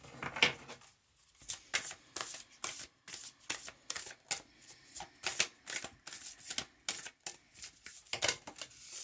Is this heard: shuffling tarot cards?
yes